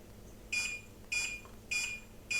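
A Tuya connected clock's alarm goes off at 4 pm, a loud electronic beep repeating four times at a steady pace of about one every half second, with nothing else over it.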